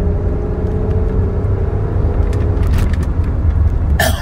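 A 1999 Toyota Avalon driving on a windy day, with a steady loud low engine and road rumble from inside the cabin and a brief rattle or click near the end.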